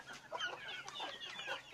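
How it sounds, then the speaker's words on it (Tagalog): Farm chickens cluck in soft, irregular bursts, several birds calling close together at a modest distance with no talking. "Malalaki na rin po yung iba kong manok dito mga ka-province life."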